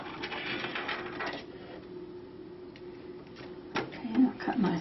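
Sewing machine stitching in place to tack down decorative thread with a couching or yarn foot; a steady, muffled mechanical whir that runs for a second or two, pauses, then briefly resumes with a few clicks.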